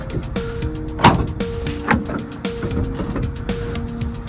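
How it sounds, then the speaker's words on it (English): A motorized whir with a sharp mechanical clunk near the start and another click as the rear doors of a 2019 Ford Transit wheelchair van power open, steady hum continuing. "We will first open up the doors."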